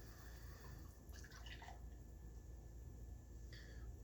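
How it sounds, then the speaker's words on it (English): Bell's Kalamazoo Stout poured aggressively into a glass gives brief, faint splashing and trickling bursts over a low steady background hum, with no voices. "let's get a pour"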